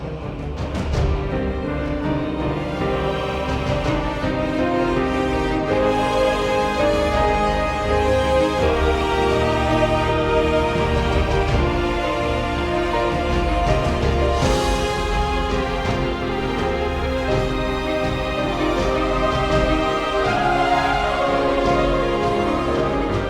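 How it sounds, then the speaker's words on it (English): Quirky, strange video game theme music plays loudly and continuously, a dense layered instrumental arrangement with shifting melodic lines and steady rhythm throughout. "how to write a video game theme that sounds like this"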